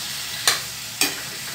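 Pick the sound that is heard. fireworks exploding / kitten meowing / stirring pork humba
stirring pork humba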